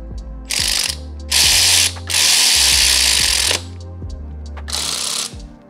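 A ratchet threads in a throttle-body bolt on a 3SGE engine with individual throttle bodies: several bursts of rapid, loud mechanical clicking up close, separated by short pauses.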